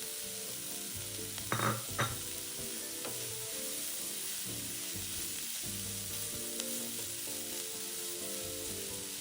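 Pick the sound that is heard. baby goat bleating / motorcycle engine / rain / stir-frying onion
stir-frying onion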